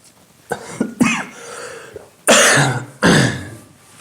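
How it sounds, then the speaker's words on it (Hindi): A few sharp coughs and throat-clearing bursts, close to the microphone, the last two loud and harsh with pauses between them. "भाई खांसी होगी"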